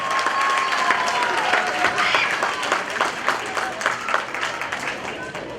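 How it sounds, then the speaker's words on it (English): An audience at a community graduation ceremony gives sustained applause for the high school graduates, steady and full throughout, with a faint voice in the background. "Can we all give a round of applause for the high school graduates?"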